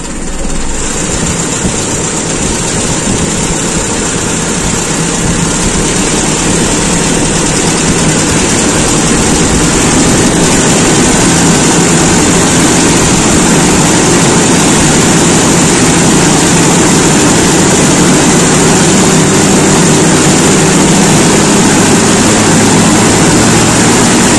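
A cold Toyota Kijang Super carburetor engine runs rich and is revved, producing a loud, steady, close engine roar that climbs slightly midway and continues without speech.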